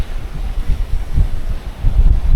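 Loud, gusty wind buffets the microphone with low rumbling surges, suggesting wind and rough water at sea, with no voices.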